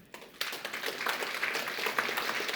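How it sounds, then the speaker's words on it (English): An audience at a software conference talk bursts into applause after a brief quiet moment, with dense, steady clapping from a room of listeners. "Big round of applause for Damian"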